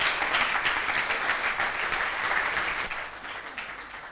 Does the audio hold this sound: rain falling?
no